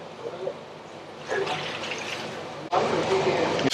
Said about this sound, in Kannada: ಈಗ ನೀರು ಹಾಕ್ತಾ ಇದ್ದಾರೆ